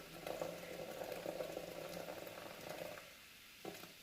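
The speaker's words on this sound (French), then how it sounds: "Ça bouillonne." Cider sauce bubbles and boils in a Thermomix, a steady close bubbling and gurgling that runs for a few seconds before quieting, with a small knock near the end.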